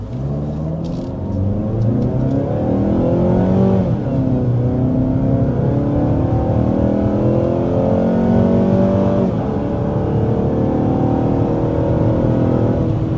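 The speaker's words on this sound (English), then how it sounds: "that was our acceleration to 60 miles per hour with the 2026 CX-5" A 2026 Mazda CX-5 hybrid with a 2-liter four-cylinder engine and two electric motors accelerates hard to 60 mph, giving a loud, steady engine drone that rises in pitch and then drops back at a shift, heard from inside.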